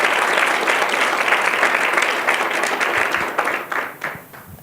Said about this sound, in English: I think we need to give them another round of applause